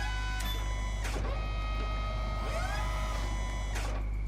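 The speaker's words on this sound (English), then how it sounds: "Let's just use the forklift." Forklift in Construction Simulator running with a steady low engine drone, several sharp clanks and a rising-and-falling whine as it works, all near and constant.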